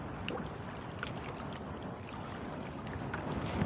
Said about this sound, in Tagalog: lakas mga idol yung hangin pambirang hangin na yan eh.